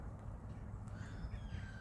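A crow-like bird caws outdoors during a walk in Denmark, faint and distant over steady low outdoor rumble, with a few thin high calls across the two seconds.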